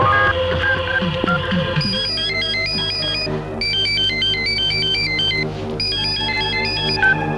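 A melodic phone ringtone plays loud and close, repeating a bright, looping tune as an incoming call rings.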